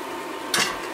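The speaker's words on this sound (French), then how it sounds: "on retourne les beignets pour qu'ils cuisent des deux côtés" Beignets frying in hot oil make a soft continuous sizzle, broken by a brief louder splash or scrape as one is turned or lifted.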